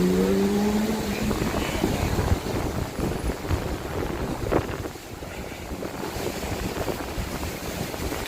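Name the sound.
wind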